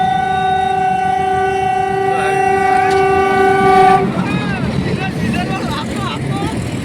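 A train arrives in Una during a Ram Navami festival, its long, steady horn blaring loudly for several seconds over rumbling wheels, then giving way to close clattering rail noise and excited voices.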